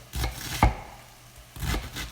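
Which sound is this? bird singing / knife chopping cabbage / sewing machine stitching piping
knife chopping cabbage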